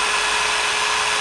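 A DeWalt DCF787 cordless impact driver runs at full trigger, a loud, steady high-pitched motor whine that holds without a break for the whole short stretch.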